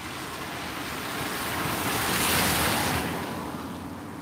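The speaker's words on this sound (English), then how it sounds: "there's a hell of a lot of water flowing down the road here" A large amount of water rushes down a road outdoors, a broad continuous roar that swells toward the middle and then eases, with wind buffeting the microphone and no voices.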